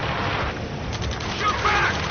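Rapid gunfire crackles throughout a chaotic video game battle in Ace Combat Skies Unknown, with dense, continuous bursts and no clear gaps.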